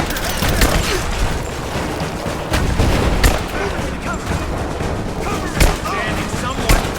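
Gunfire rattles through a firefight in the video game Rise of the Tomb Raider, dense bursts and sharp loud shots over a constant battle din, with characters shouting throughout.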